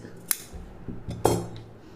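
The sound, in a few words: scissors cutting silk saree blouse fabric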